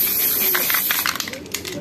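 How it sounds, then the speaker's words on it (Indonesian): A spray bottle hisses in short repeated bursts onto a t-shirt during screen printing with photo dye ink and transfer paper, the steady mist close and fairly loud. "Kita coba semprot ya."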